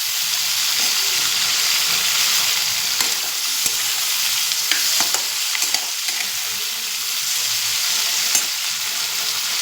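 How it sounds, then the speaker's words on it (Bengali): Chopped onion and capsicum frying in a pan give a loud, continuous hiss and sizzle close up, broken by occasional light scrapes and clicks of stirring. "একটু ভাজা ভাজা হয়ে যাক।"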